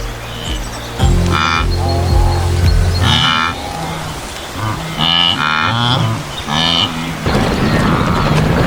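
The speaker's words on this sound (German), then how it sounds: "Das Blöken der Jungen klingt schrill und hastig." Young buffalo calves bleat shrilly and hastily in repeated, urgent calls near a waterhole, close and loud, the cries overlapping in uneven bursts with short gaps.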